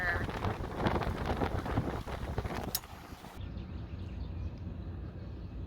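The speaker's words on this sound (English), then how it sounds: "I'm going to go back inside because it's too windy out here." Strong wind blows outdoors at a waterfront near Morehead City, a loud, gusty buffeting rush close to the microphone that drops to a steadier, muffled roar partway through.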